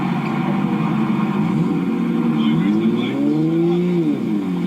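A Toyota Supra's engine drones loudly and steadily up close, then rises and falls in pitch as the revs swing near the end.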